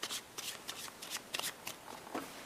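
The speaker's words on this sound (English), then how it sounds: "Take the cards that are left, shuffle those." A spectator shuffles a deck of playing cards during a card magic routine, giving crisp riffling bursts repeated several times in quick succession, close and fairly quiet with no talking.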